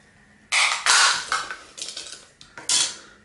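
The plastic casing of a vintage game console is pried and pulled apart by hand, giving several sharp, close cracking and clattering bursts with brief pauses between them.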